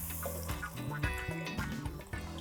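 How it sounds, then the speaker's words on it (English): Water pouring into a pot of bean stew with pumpkin, vegetables and spices, a close gurgling, splashing stream with bubbling surges over about two seconds. "I'm adding some water."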